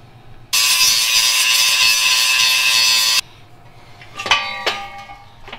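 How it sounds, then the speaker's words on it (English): A power drill bores holes while an air locker is installed, running loud and steady for about three seconds, then stopping, followed by scattered clanks and rattles of tools being handled. "we're gonna drill these other holes and then we're gonna clean it out."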